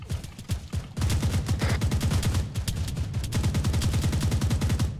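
Gunfire in the Altis Life game during a gang battle: a few scattered shots, then sustained rapid automatic fire in loud, close bursts that runs almost without pause to the end.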